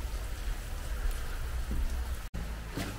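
Steady rain falling on a surface in Le Crozet, Loire, France, a dense continuous patter with a brief dropout near the end.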